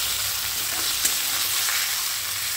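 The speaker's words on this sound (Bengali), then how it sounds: "এই তেলটার মধ্যে আবার দিচ্ছি চিংড়ি মাছটা একটু লাল লাল করে ভাজবো।" Prawns fry in hot oil left over from frying egg and potato for a biryani, an even, dense hiss of sizzling that holds steady throughout at close range with no voices.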